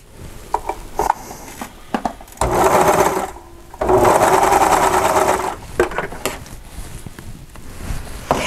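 A serger stitches and trims curtain fabric in loud whirring runs of a second or two, with a longer steady burst near the middle, separated by short pauses, pin clicks and handling of the cloth.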